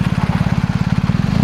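BMW R1250GS motorcycle fitted with a Jekyll & Hyde exhaust set to loud mode, idling close by with a deep, steady, rapid thumping pulse throughout and no other sound.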